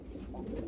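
A brief low coo from a team of fal posta pigeons, close and soft, lasting under a second with a faint murmur behind it.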